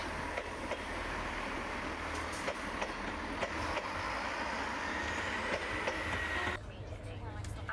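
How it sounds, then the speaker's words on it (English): A Class 158 diesel train pulls out of Swansea station, a steady low engine drone and rolling rumble that holds evenly before cutting away, with someone talking over it. "here we see a Class 158 leaving on the 1240 service to Llanelli"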